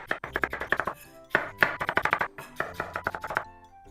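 Rapid, steady knife chops on a cutting board while preparing miso side dishes in a Japanese home kitchen, a close run of sharp strikes with a brief pause midway.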